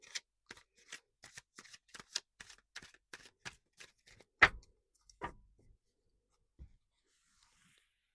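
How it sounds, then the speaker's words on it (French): Oracle cards are shuffled in a quick run of crisp riffling taps, followed by a few slower, separate snaps and slaps as cards are drawn and laid down. "je tire les cartes comme si vous étiez en guidance personnalisée avec moi"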